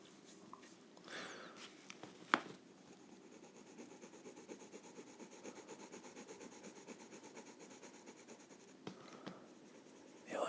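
Steady scratchy strokes of colored pencil on paper, continuous and close, with a couple of small taps and bumps along the way.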